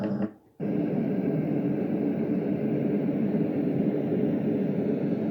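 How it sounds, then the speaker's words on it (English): A white noise machine on its white noise setting gives a steady, full-band hiss that holds at a constant level after a short quiet moment at the start. "So now we're going to move on to the white noise."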